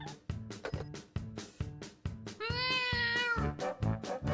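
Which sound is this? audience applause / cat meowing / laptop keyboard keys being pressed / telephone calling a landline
cat meowing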